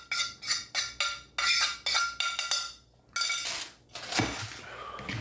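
A spoon stirs marinated chicken for a Caribbean curry in a bowl, giving a run of regular clinks and scrapes against the bowl's side, close and clear. The strokes come in a steady rhythm, then a pause, then a few rougher scrapes.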